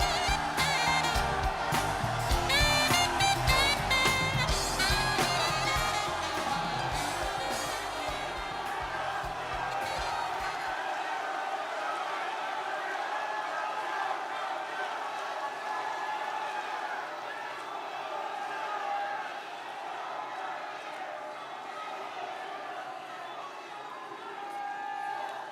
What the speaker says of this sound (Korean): 뜨거운 박수로 맞아주시기 바랍니다